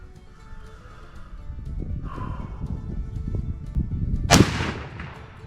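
A World War I era rifle fired while deer hunting cracks once, sharp and loud, against a quiet outdoor background with faint rustling.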